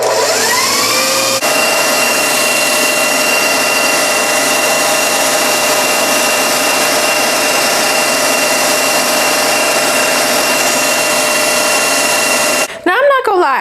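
Electric mixer beating a tiramisu cream mixture toward stiff peaks, a loud steady whir running continuously for most of the clip before cutting off near the end.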